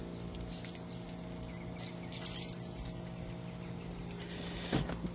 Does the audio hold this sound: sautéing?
no